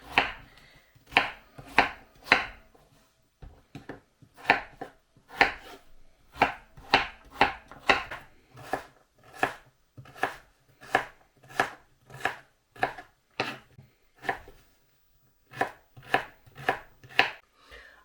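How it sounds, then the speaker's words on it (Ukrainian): A knife chops potatoes into small pieces for soup on a cutting board, with crisp, evenly spaced knocks in steady runs and brief pauses between, close and clear with no talking. "Нарізаємо картопельку на невеличкі шматочки."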